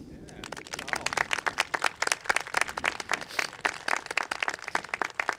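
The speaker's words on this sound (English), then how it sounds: "Parents, we thank you and we honor you with the standing ovation and applause." Applause at a high school commencement ceremony honoring parents, many hands clapping in a dense, steady patter with sharp individual claps standing out, building after a brief quieter start and continuing throughout.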